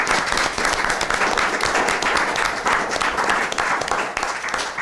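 Sustained audience applause thanking candidates at an election forum, a dense, even patter of many hands clapping close by throughout, without speech.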